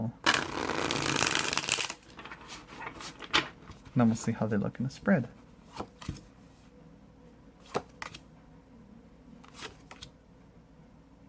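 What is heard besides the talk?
shuffling a deck of tarot cards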